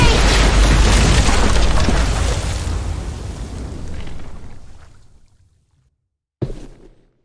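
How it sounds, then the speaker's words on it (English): A bomb blast in The Walking Dead game erupts as a loud, broad roaring explosion that rumbles and slowly decays over several seconds into near silence, followed by a sudden sharp thud. "Shit, the bomb!"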